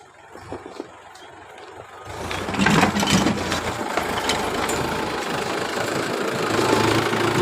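Tractor engine running in a village in Chhattisgarh, a steady, fairly loud knocking idle that rises after a couple of seconds and then holds an even chugging drone.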